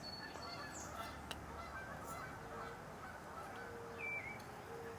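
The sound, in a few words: geese honking outdoors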